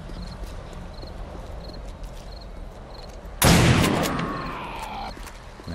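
A single loud homemade shotgun blast at zombies during a night horde in 7 Days to Die, a sudden heavy boom that decays over about a second, following faint, sparse ticking game sounds.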